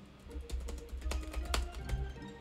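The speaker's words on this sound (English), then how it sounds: "Do you hear me typing?" Someone types on a computer keyboard at close range, a quick uneven run of clicking keystrokes with a few sharper taps, and nobody speaks.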